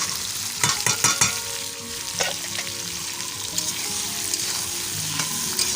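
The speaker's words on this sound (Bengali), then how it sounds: "এই দেখো পেঁয়াজগুলোকে দিয়ে দিচ্ছি।" Onions go into a pan where tomatoes have been frying, a loud, close sizzle with several sharp scrapes and clatters from stirring near the start, then a steady fry with no voices.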